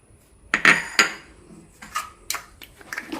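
Crushed shallots, curry leaves and chopped mango for a coconut-based mackerel curry drop into a pot with a few sharp clattering knocks and scrapes of metal, close and loud, with no talk.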